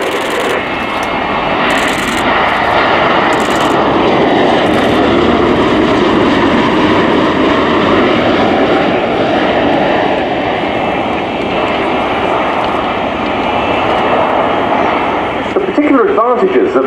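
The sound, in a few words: CV-22 Osprey tilt rotor aircraft flying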